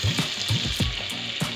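Desi ghee and butter sizzle in a pressure cooker, a close, steady hiss with soft bubbling pops recurring every fraction of a second.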